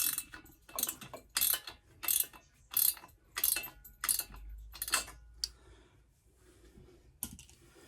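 Pliers tightening a headlight mount on a motorcycle, giving a series of sharp metallic ratcheting clicks in regular bursts, close and fairly loud, fading into quieter handling noises near the end.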